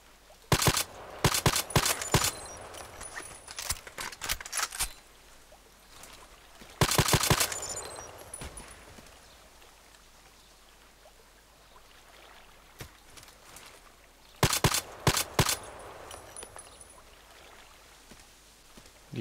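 Clusters of sharp gunshots from an EBR sniper rifle in a lake-map shooter game crack out in quick groups, with longer quiet stretches of ambient water and background noise between them.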